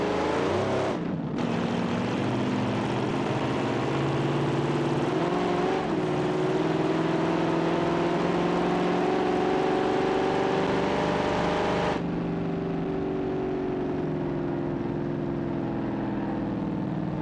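A W12-engined land speed record car in a video game howls at near full throttle, a loud, continuous high-revving drone with brief gear-change dips early on and an abrupt drop in pitch and intensity toward the end, with no voices.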